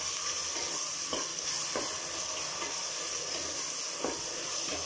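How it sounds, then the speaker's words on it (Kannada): Tomatoes and mushrooms frying in a pan: a continuous bright sizzle and hiss fills the whole stretch, with soft periodic scrapes of a spoon stirring, and no one speaking. "ಟೊಮೆಟೊ ಹಾಕ್ಕೊಂಡು ಆದಮೇಲೆ ಸ್ವಲ್ಪ ಫ್ರೈ ಮಾಡಿ ಟೊಮೆಟೊ ಎಲ್ಲ ಮೆತ್ತಗಾಗೋವರೆಗೂ ಫ್ರೈ ಮಾಡ್ಕೊಳ್ಳಿ"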